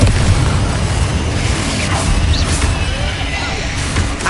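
A loud, dense explosive blast from the Confringo fire spell in the Hogwarts Legacy video game, a sustained roaring burst with crackling debris and rumble filling the whole moment.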